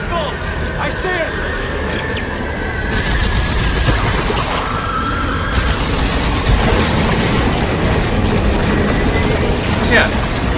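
Game gunfire from Dead Space 3, weapons fired at tentacles in a dense, continuous barrage of shots and mechanical clatter, loud and close, with voices talking over the fighting.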